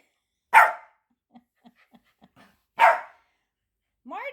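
A dog indoors gives two loud, sharp barks about two seconds apart, with faint soft ticks between them and a brief whining yelp at the end.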